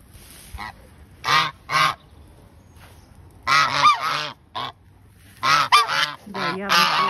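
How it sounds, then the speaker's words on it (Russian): Goslings at a water mill in Northern Ireland honk and call loudly in repeated bursts, sometimes singly and sometimes in overlapping clusters, close by with short pauses between calls. "Вот такие гусятки чудесные. Раскричались."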